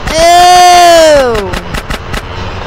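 A handful of quick gunshots ring out in GTA San Andreas, sharp and closely spaced, following a long drawn-out shouting voice.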